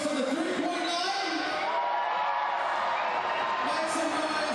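Basketball arena crowd at a Hawke's Bay Hawks versus Manawatu Jets game cheering and shouting loudly and steadily throughout, a dense sustained roar of voices and whoops.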